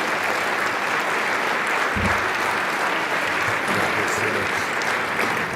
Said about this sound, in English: Ladies and gentlemen, a big round of applause for the